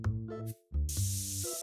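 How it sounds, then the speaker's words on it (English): An aerosol spray can is fired at a customer in a card shop video game, a bright sustained hiss lasting under a second that starts over tonal game music and a brief break. "We need to spray this guy."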